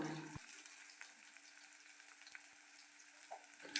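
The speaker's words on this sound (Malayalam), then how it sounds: "ഇനി ഇതിലേക്ക് ഒരു സവാളയുടെ പകുതി അരിഞ്ഞത് ഇട്ട്" Chopped onion sizzles in hot oil with garlic and fenugreek. The frying is a steady, soft crackle at low volume, with a faint stirring scrape near the end.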